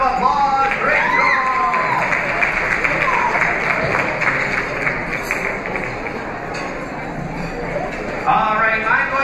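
An audience at a banquet applauds a participant named Zeke, a mid-distance wash of clapping with some chatter and cheering mixed in and a voice speaking over parts of it.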